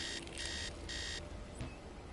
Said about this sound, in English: Okay, I don't know what that beeping means.